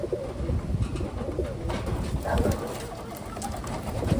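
Pigeons cooing among caged Taiwan birds, low throaty coos over a busy rustling background, close and steady for a few seconds.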